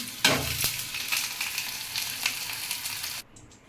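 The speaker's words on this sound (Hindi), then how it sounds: "यहाँ प्याज फ्राई कर देनी। कढ़ाई गरम हो गई।" Onions frying in a hot kadhai for a home-style paneer curry, a steady close sizzle that flares as the onions go in and then cuts off abruptly near the end.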